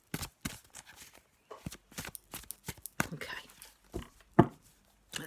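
Tarot card deck being shuffled by hand, a series of short papery riffles and taps in uneven bursts, close and fairly quiet, with a brief voice near the end.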